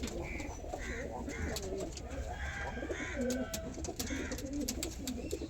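Domestic pigeons coo repeatedly in a loft, soft throaty calls overlapping at close range over a steady background hum.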